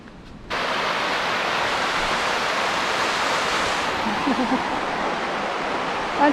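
A river with small waterfalls in the Scottish hills near Ben More rushes loudly and continuously, a dense, steady roar of flowing water close by with no talking.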